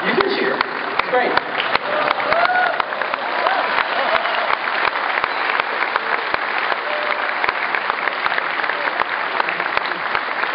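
A conference audience at a Google I/O 2010 benchmark demo of Android 2.2 claps and cheers, sustained dense applause filling the hall with a few whoops mixed in.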